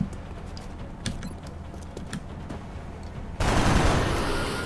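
Gunfire in the XCOM: Enemy Within video game: scattered sharp shots and clicks, then a sudden sustained loud burst of fire that carries to the end.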